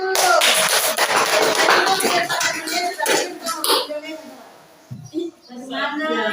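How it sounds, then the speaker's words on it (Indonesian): Audience clapping at a school presentation, a brisk patter of hands that fades out after about four seconds, with chatter and voices mixed in. "tepuk tangan dulu"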